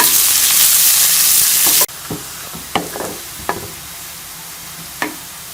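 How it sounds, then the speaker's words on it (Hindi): Onions fry in hot oil until brown for chicken tikka biryani: a loud, dense hiss fills the first two seconds, then drops to a softer sizzle broken by several distinct stirring knocks. "प्याज को ब्राउन होने तक फ्राई कर लेंगे"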